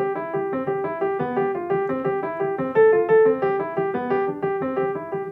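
Piano plays a steady stream of even, straight eighth notes, eight per measure, chords repeating in a brisk, regular rhythm with a slightly louder accent midway.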